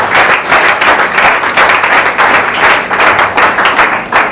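A church congregation applauds and cheers for Jesus, steady dense clapping from a crowd filling the room, loud and continuous with rhythmic swells.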